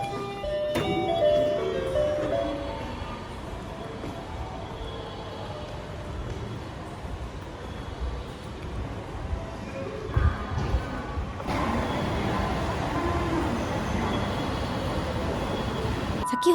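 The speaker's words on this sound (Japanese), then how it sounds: "おりんの音が使用された万葉線発着音が静かに響き渡り、その余韻とともに電車が姿を現します" A Manyosen tram arrives at a stop in Takaoka as a departure chime made from orin bell tones rings out, clear ringing tones early on over station ambience, followed by the rumble of the approaching tram that grows fuller near the end.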